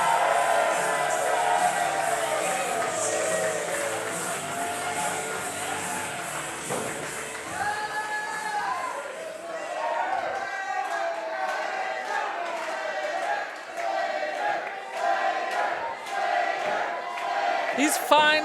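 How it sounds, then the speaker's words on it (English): A wrestling crowd cheers for JC Slater, a continuous loud roar of many voices with shouts and whistles rising and falling across the whole stretch. "These fine folks are cheering for Slater as hard as they were booing Jay Fowler."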